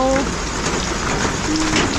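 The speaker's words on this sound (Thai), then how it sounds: "ฝนตกลินชักแท้" Heavy rain pours down steadily during a storm, a dense loud rush close by with a voice briefly audible over it.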